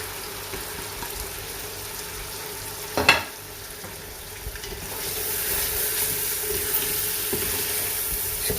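Tomatoes and spices for beef pulao fry in a pot. A steady sizzle swells after a single sharp knock of a spoon against the metal, and the stirring runs on without anyone speaking.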